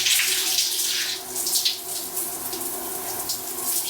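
Water runs steadily from a tap, likely a bathroom sink, while face wash is rinsed off, a continuous close splashing hiss with small fluctuations throughout and no talking.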